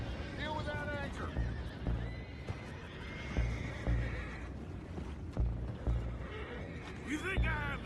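Horses whinny and neigh in Red Dead Redemption 2, with clip-clop hooves and water sounds nearby; several sharp calls rise above an ongoing bed of ambient noise, and voices talk between them.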